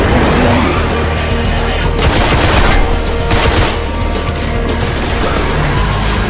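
Rapid gunfire from a weapon in the Destiny shooter game, loud and close, with dense bursts of shots running almost continuously and a couple of brief lulls between volleys.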